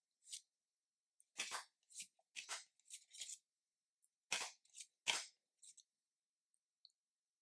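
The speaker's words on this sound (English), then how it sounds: "I love the way it shuffles. It shuffles beautifully." A tarot card deck of Rider-Waite-Smith style, riffled and shuffled at close range in a quiet room, with a series of short crisp bursts of card flutter and no talking.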